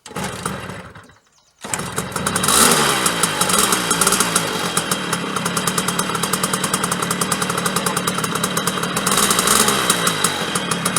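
A small two-stroke engine on a vintage Jawa moped sputters briefly, then catches and runs with a rapid, rattling putter, loud and close throughout.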